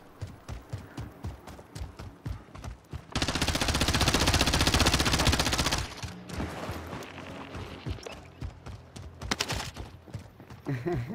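Bursts of AK-47 gunfire in the video game Call of Duty Warzone: scattered sharp shots, then a dense sustained volley for about three seconds, followed by more irregular shots, loud and close, with occasional talk.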